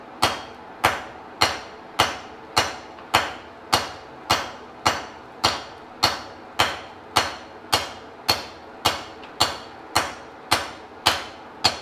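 A hammer repeatedly strikes hot metal on a blacksmith's anvil while forging a rounded bar, about twenty sharp, ringing blows in a steady, even rhythm, close and loud, with no talking.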